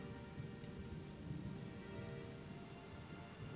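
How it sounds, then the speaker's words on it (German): Steady rainfall in the video game Gothic II, a dense continuous hiss of rain with a low rumbling undertone, fairly quiet and uninterrupted, with no voices. "Jetzt regnet es."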